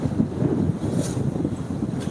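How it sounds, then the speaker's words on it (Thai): Strong wind gusts roar steadily into a microphone outdoors before rain, a close, continuous blustery rush with low buffeting and no speech. "ลมแรงมากเลยค่ะ"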